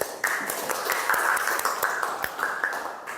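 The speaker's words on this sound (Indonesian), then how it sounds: "Tepuk tangan dulu dong." Audience applause after a group presentation in a classroom, heard as a continuous patter of many hands clapping at moderate loudness, with a few sharper claps standing out.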